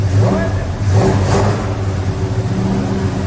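Loud, steady revving from the engine of a 1972 Dodge Charger under restoration, with the pitch swelling and easing in short pulses, close by and alone.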